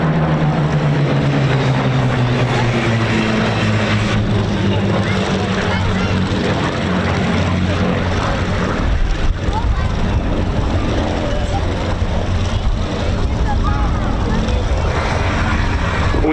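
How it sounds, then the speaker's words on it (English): Three Supermarine Spitfires pass over an airshow at Old Buckenham, their piston engines droning loudly with a falling pitch sweep early on as they go by, and a commentator's voice runs over the engine noise. "not 1, not 2, but 3 Supermarine Spitfires"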